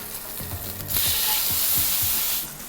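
Pepper steak sears in a smoking, oiled cast iron pan, a loud steady sizzle that swells into a bright hiss partway through with a few soft scraping knocks, no voices.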